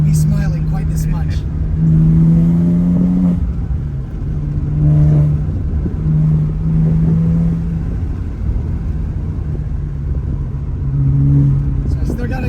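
A Porsche Boxster engine pulls hard from inside the car, its droning note climbing in pitch through several rising sweeps under a steady road rumble, with occasional talk from the occupants.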